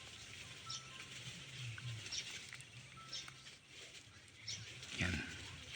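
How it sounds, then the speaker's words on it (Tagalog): Ducks and other farm birds such as chickens call faintly around a pond in Cabiao, with scattered quiet quacks and chirps over a low background murmur and some soft talking nearby. "May mga bibi po dito."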